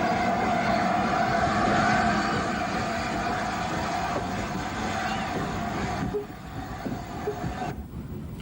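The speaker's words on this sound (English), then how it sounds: "A train comes down the incline to the harbour to meet it with an R1060 tank in charge" A steam train hauled by an R1 tank engine works the incline at a harbour, a steady broad rumble and rolling rail noise that holds level and then softens toward the end, with no voices.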